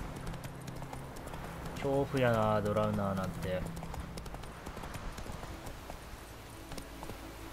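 The horse Roach gallops in The Witcher 3, rhythmic hoofbeats running steadily throughout while someone talks over the middle part, the clopping continuing alone afterward.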